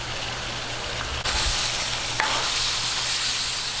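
Baguio beans and sweet potato frying in a hot pan give a steady, loud sizzle that swells as more vegetables drop in, with a light scrape of stirring partway through and no talking.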